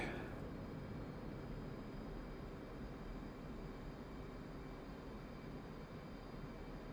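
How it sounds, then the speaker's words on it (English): A jet's afterburner roars steadily in a DCS World flight, a dense, loud and unbroken rush of engine noise with no pauses, heard during carrier and air-to-air refuelling flying. "Crank up that afterburner."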